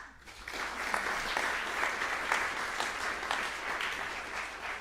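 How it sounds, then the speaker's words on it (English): Audience applause for the competition jury at a Carnegie Hall chamber music final round, a dense, steady clapping crowd sustained at even loudness from start to finish. "How about a round of applause each for each of them this time?"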